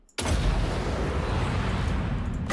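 Laser fire in a video game bursts in abruptly as a loud, sustained roaring blast that holds steady for over two seconds.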